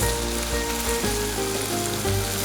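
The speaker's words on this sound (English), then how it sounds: "In go the onions." Large petal-cut onion pieces hit hot oil with garlic ginger paste in a pan for kalimirch chicken, a loud, constant sizzle and crackle holding steady from start to finish with no talking.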